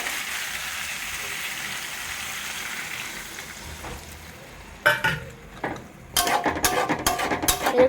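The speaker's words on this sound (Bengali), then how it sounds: "এখন জল দিয়ে দেবো।" Water poured into a curry in a hot pan: a steady sizzle gives way to sharp bursts of hissing and bubbling as the liquid hits, close and fairly loud, with no talking.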